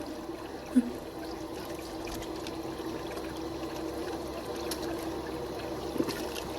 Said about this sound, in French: On a carrément ouvert le robinet pour moi.